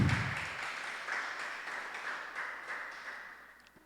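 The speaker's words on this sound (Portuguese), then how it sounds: "aplaude o Senhor bem forte aí, por favor" A church congregation applauds during a worship service, a dense wash of clapping that starts loud and slowly fades across the hall.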